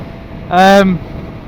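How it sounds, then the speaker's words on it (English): Suzuki GSX-R motorcycle fitted with an aftermarket Delkevic exhaust gives a short, tonal rev lasting about half a second, rising out of a low background rumble and then dropping away. "You probably notice a different tone in the exhaust. I've put the Delkevic back on."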